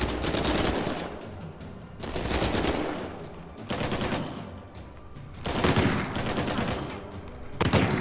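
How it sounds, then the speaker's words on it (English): Sustained automatic gunfire from the gold gun in Uncharted 4, loud and near, coming in repeated bursts of roughly one to two seconds with short gaps between them. "this gold gun is absolutely insane"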